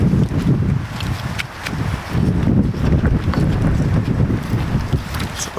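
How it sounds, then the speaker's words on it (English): Wind gusts buffet the microphone outdoors during wood gnome whittling, a rough, uneven rumble that swells and dips in waves, with a few faint clicks and taps scattered over it. "It's a little breezy today, isn't it?"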